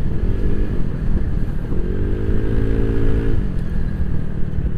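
A loud, close Honda Click 175cc scooter engine, tuned, running steadily with a rising rev swell mid-way before settling back, heard alone without talk.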